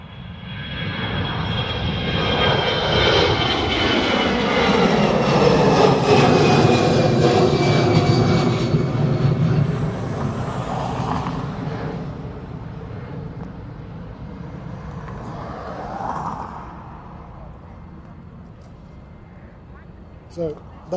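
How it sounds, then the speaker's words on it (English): An Aer Lingus jet airliner departs Dublin Airport for Nice, its engines swelling into a loud, broad roar that peaks mid-pass and then fades slowly into the distance as the aircraft climbs away, with faint background activity afterward. "So that was the Aer Lingus to Nice."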